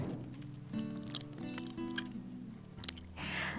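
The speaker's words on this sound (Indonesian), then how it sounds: "Renyah ketika digigit," Crunchy cheese-topped putri salju cookies are bitten and chewed up close, with crisp crackling bites and chewing at an uneven pace and a brief rustle at the end, with no talking.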